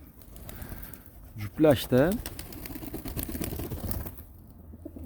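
Pigeons coo indoors in a loft, two or three throaty rolling calls close together near the start, while someone talks steadily throughout and faint shuffling continues underneath.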